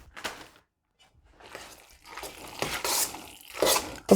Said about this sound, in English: So let me stir this in.